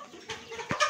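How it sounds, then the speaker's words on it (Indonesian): Ayam Cemani chickens give a few short, close clucks in quick succession. "Ini ada ayam cemani."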